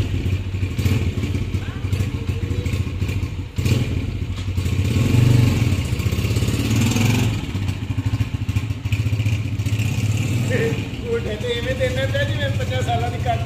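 A motorcycle engine runs steadily at idle with a low, rumbling throb, close by, while people talk over it throughout.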